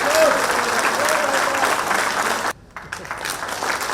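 Loud, dense audience applause at a Jharkhand Administrative Service Association ceremony honouring the Chief Minister, a steady wash of clapping that cuts out abruptly for a moment before resuming.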